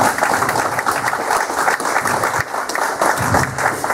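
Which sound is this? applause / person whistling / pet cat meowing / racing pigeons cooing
applause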